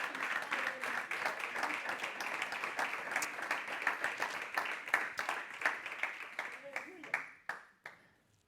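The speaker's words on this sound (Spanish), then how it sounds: "Denle un aplauso al Señor," A church congregation at a Sunday service applauds together: dense, steady clapping for several seconds that thins to a few scattered claps and then stops.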